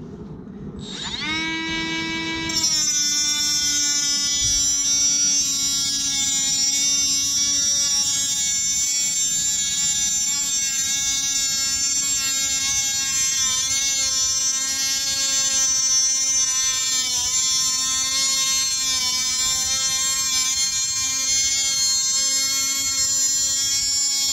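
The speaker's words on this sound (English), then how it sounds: "Now it's time for the Harbor Freight 40 grit cutoff wheel" A Milwaukee M12 Fuel 3-inch cut off tool spins up with a Harbor Freight 40 grit cutoff wheel, then holds a sustained, high-pitched whine with slight wavering as it cuts.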